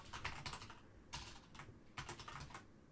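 Rapid clattering keystrokes on a computer keyboard come in several quick bursts separated by short pauses, close and fairly quiet, with no voices.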